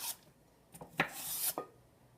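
Grated carrot and celery being scraped off a board into a bowl for a salad, several close rasping scrapes in quick succession, with no talking.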